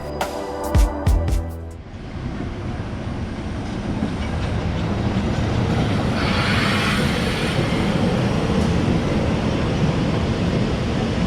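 A narrow gauge train on the Zittau railway rumbles along steadily with a dense, continuous roar, reaching Zittau Vorstadt station, preceded by a few sharp knocks and clanks at the start.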